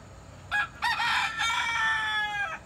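A nearby rooster or hen in a garden gives a loud series of drawn-out calls in close succession, fowl vocalizing alone over faint background noise.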